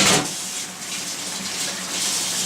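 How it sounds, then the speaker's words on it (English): Running tap water while hands are rinsed at a kitchen sink, a steady hissing splash that gushes louder at the start and end, with no talking. "I'm going to rinse my hands off"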